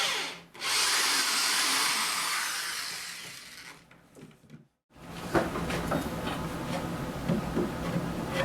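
A power drill bores a hole through wood guided by a homemade drilling jig, a loud steady whine for several seconds, a short pause, then rougher grinding and crackling as the bit cuts on.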